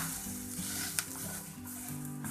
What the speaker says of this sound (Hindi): और इस तरह से हल्का हल्का दबाकर इसको पका लेंगे।